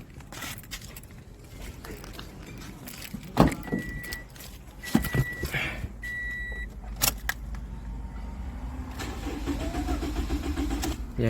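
A car's engine is cranked after a gas light repair: a couple of sharp clicks and starter bursts, then the engine catches and settles into a continuous running hum.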